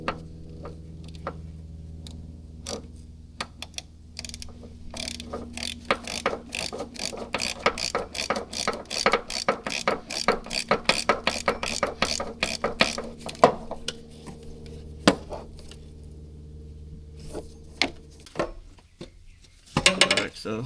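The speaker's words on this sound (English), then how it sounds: "we have to get the 14 millimeters to remove the alternator to give us the space to work on" A ratchet wrench clicks in rapid bursts while loosening 14 mm alternator bolts on a 2006–2010 Nissan Altima, with close, sharp metallic ticking, pauses between strokes and a few clanks of tools.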